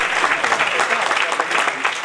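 Audience applause fills a Rotary Club event hall, dense steady clapping from a crowd for about two seconds, fairly loud and close, with some voices mixed in.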